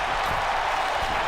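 A steady, dense wash of arena crowd noise from the WWE 2K wrestling video game, a constant hiss-like roar of cheering and applause at even volume with no distinct voices.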